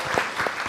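An audience at a seminar session applauds for a presenter and two discussants, a short burst of clapping from a room full of people.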